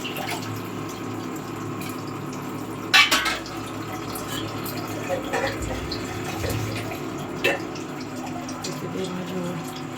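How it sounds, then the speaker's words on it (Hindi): Drinking water runs and trickles steadily into a household vessel at a home sink for several seconds, broken by a few sharp clinks of metal dishes and soft knocks. "पानी भी भर चुका है, तो मुझे पानी को पीने वाली बर्तन में रख देते हैं।"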